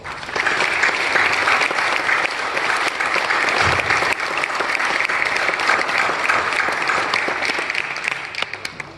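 A large audience applauds at a Navy Chief Petty Officer pinning ceremony in Raleigh, with dense, sustained clapping that stays loud throughout and tapers slightly at the very end, with no talking over it.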